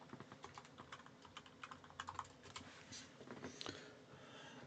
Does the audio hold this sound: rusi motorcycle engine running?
no